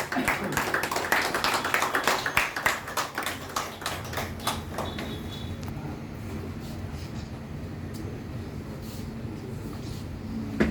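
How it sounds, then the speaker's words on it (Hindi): An audience claps for a guest at a formal gathering with a branch manager, a quick burst of close hand claps that thins out after a few seconds into a low hum of the room. "इनके लिए कृपया तालियां हो जाए"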